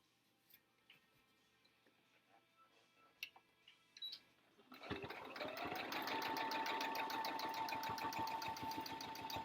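Sewing machine stitching fabric for a face mask, starting after a few seconds of quiet handling and small clicks, then running steadily and loudly with a fast, even needle rhythm to the end.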